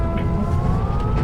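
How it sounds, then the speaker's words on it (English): An ambulance siren arriving at a salt flats speed week event, a steady wailing tone heard over loud low engine and wind rumble. "You hear the ambulance just got here?"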